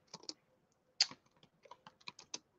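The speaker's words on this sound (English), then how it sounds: "I can't be asked typing it out properly." Fingers type on a computer keyboard close by in uneven bursts of crisp clicking keystrokes, with short pauses between runs and no talking.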